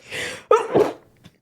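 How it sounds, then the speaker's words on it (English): A single sharp sneeze with a quick intake of breath before it, loud and close, followed by a faint short exhale. "It's going to be a heavy sneeze stream."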